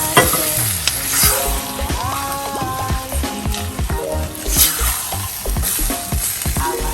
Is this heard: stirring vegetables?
yes